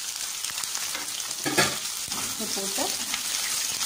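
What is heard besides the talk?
onions and green chillies sautéing in a pan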